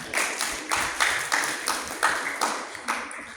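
A debate audience claps in a steady, evenly spaced rhythm, with sharp bursts about every half second and no voices over it.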